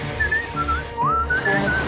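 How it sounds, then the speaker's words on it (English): A whistled tune, indoors, from the cartoon crab Mr. Krabs: several clear sliding and warbling notes in short phrases, alone over a soft low musical hum. "An indoor whistle brings luck's dismissal!"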